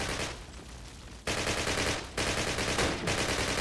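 Dense, continuous automatic gunfire in Call of Duty crackles throughout, with bursts that briefly thin out and then surge back in, loud and chaotic like a close firefight.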